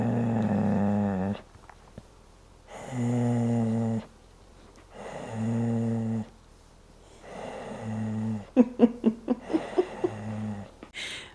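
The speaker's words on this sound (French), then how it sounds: "Et elle continue de ronronner." A cat purrs in long, steady rumbling bouts separated by short pauses, close and fairly loud, with a few sharper snorting breaths near the end.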